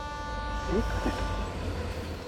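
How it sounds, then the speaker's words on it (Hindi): A train rumbles on a nearby railway track with a steady low drone and sustained tonal whine, heard briefly at a moderate distance. "ये तो ट्रेन की आवाज है।"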